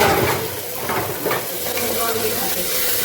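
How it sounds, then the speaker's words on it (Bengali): Meat fries with capsicum and spices in a pan, a constant hissing sizzle with some steam and stirring sounds, fairly loud and close. "আর একটু মাংসটা কষিয়ে নিই, তারপরে এটা দেবো।"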